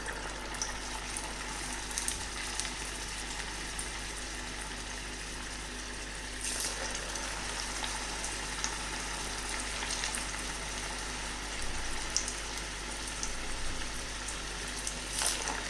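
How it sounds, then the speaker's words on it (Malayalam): Green peas vada batter frying in hot oil: a steady, faint sizzling hiss with occasional brief crackles and pops, continuous and undisturbed by talk. "നമുക്കിനി കുറേശ്ശെ മാവ് എണ്ണയിലേക്ക് ഇട്ട് കൊടുക്കാം."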